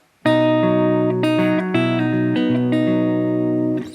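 One full guitar chord rings out bright and sustained, with a couple of notes shifting as it decays, close and clear, with no talking.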